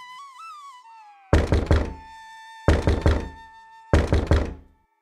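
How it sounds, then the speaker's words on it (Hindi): Someone pounds hard on a door in three separate bursts of rapid, heavy knocks with short silences between, set against a soft sustained musical backdrop. "अचानक दरवाजा खटखटाने की आवाज आती है।"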